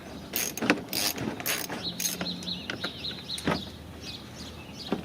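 A ratchet socket wrench clicks in quick bursts while backing out screws from the front bumper cover of a Lincoln MKX, close and crisp, with brief metallic pauses between runs of rapid ticking.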